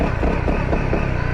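A 2018 Honda CRF250L motorcycle on a test ride gives a steady, rough engine drone mixed with heavy wind rush, loud and continuous throughout with no clear revving changes.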